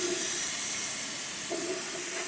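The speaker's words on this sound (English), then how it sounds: "You can probably hear my compressor doing surprisingly well, but it is having a hard time keeping up." Continuous loud hissing rush of air from a running compressor, steady throughout with a faint tonal whine rising near the end.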